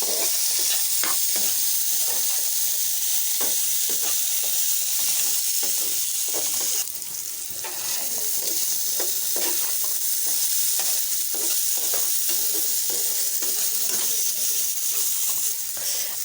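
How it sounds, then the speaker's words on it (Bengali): Potato and eggplant pieces fry in oil in a pan, a steady, loud sizzle and hiss with scattered stirring scrapes and clicks throughout. "আলু বেগুনটাকে ভেজে নেব।"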